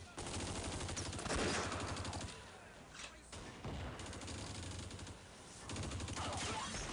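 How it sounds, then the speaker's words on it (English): Gunfire in the Close Combat war game, repeated bursts of rapid shots and rattling fire coming in waves with short lulls between, heard at a moderate distance. "Oh, we took a shot from somebody."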